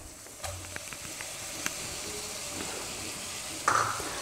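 Chopped onion sautéing in a pan for a bitter gourd curry gives a faint, steady sizzle with a few soft stirring clicks and one brief brighter burst near the end.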